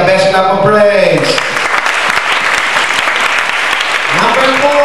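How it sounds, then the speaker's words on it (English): A church congregation claps in praise, loud dense applause continuing throughout, with a voice speaking at the start and again near the end. "Give Him the best clap of praise."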